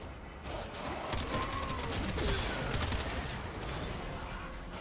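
Rapid, dense gunfire in the Warframe video game, a continuous stream of shots blurring together at moderate level with a dull, noisy backdrop and no talk.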